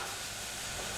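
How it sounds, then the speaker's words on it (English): Diced beef sizzling loudly in a frying pan while being browned for a slow cooker beef stew, a steady, dense hiss with no gaps throughout. "Can you hear it sizzling away?"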